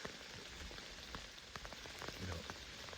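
Rain falls steadily on an evening deer hunt, soft continuous patter on surfaces with scattered louder drips close by, faint overall and without talk.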